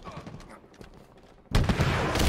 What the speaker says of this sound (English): Let's see if those rockets show up from Tiny Tip.